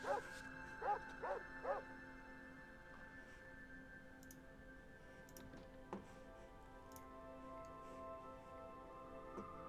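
Dogs barking in the Fallout 2 video game, guarding a shed: three quick bark bursts open the sequence, then fade into a steady game ambience with faint scattered ticks.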